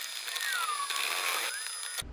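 Observatory dome shutter opening, a steady mechanical grinding and ratcheting motor drone with a rising and falling whine, continuous for about two seconds before it cuts off.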